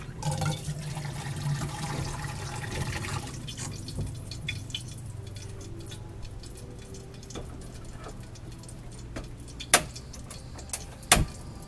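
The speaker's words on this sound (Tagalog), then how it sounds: "agas tubig." Water running from a household tap in a kitchen during breakfast preparation, a steady low wash with faint drips and a couple of sharp clinks near the end, no talking.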